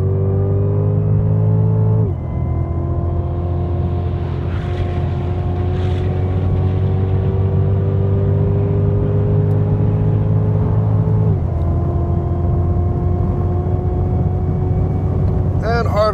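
A Cadillac CTS-V accelerates up the straightaway of the Road America race track, its engine whining in long climbing tones broken by two quick upshifts, loud and continuous from the car's interior.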